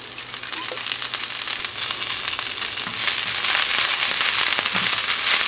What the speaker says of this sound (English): we're going to continue to cook the broccoli until it's nice and green